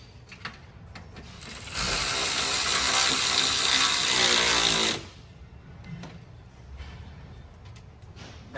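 A ratchet drives a serrated nut tight on a rock slider bolt of a 2018-or-later Subaru Crosstrek, giving a close, steady run of fast clicking for about three seconds amid quiet garage clatter.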